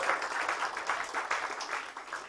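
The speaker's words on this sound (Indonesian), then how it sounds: "berikan tepuk tangan buat Anda semua yang hadir di ruangan ini" An audience in a meeting room at a business presentation claps together in a steady, even burst of applause that holds for a couple of seconds.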